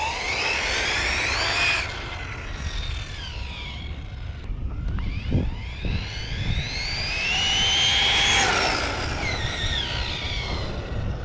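An Arrma Typhon 6S V5 RC car speeds around a parking lot on a cold day, its high electric motor whine rising and falling in pitch as it passes, fading briefly mid-run before surging loud again.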